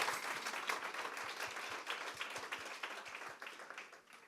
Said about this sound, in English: Let's give Dr. Leibowitz a round of applause.